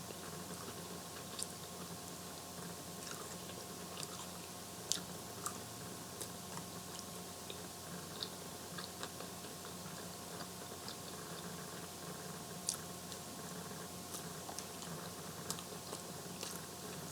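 Fries dipped in ranch and ketchup are chewed close to the mic in soft, wet bites and mashing, with quiet irregular clicks scattered over a low background hum.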